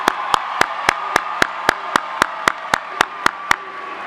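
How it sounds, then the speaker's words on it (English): At a 2017 high school graduation ceremony, sharp claps land in a steady, evenly spaced rhythm about four per second over a faint hum, crisp and prominent rather than a dense crowd wash. "Please give them a rousing round of applause."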